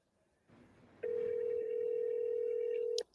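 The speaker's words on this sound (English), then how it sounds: "Is it ringing?" A telephone line rings during a call transfer with one steady, continuous electronic tone lasting about two seconds, clear and close, then cutting off sharply.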